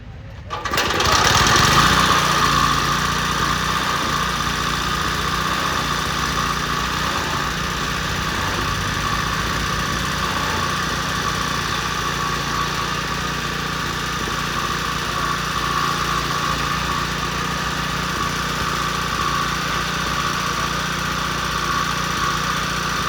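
A chaff cutter machine running in a live demo, a steady loud mechanical drone with high whine that starts abruptly and holds unchanged for over twenty seconds.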